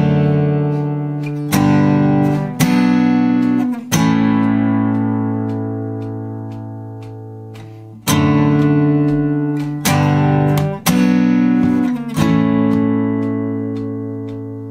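Acoustic guitar strums the chorus chords of a song, ringing sustained chords with sharp strum accents in a steady rhythm, close and loud with no voices.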